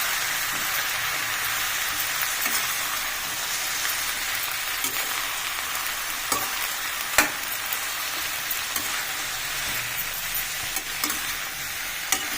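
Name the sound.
eggplant being stirred and fried in a pan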